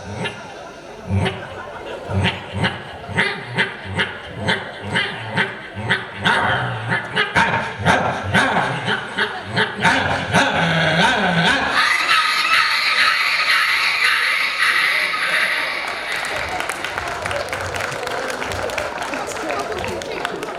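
A voice mimics a dog's barking in a rapid, rhythmic series of yaps and bow-wows, imitating a puppy at an evening stage event, giving way to loud applause and crowd chatter.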